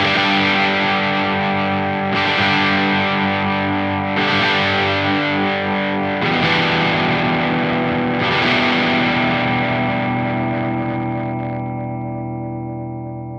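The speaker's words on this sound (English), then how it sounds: "I have a Friedman sound in there, and it sounds a little bit like this" Heavily distorted chords from a Gibson Les Paul DC Special through a Friedman amp model ring out one after another, each sustaining long and thick, the last one slowly fading away.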